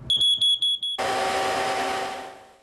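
A battery-operated smoke detector alarm sounds loud and close, giving four short piercing beeps before breaking into a continuous harsh, broadband blare that slowly fades toward the end.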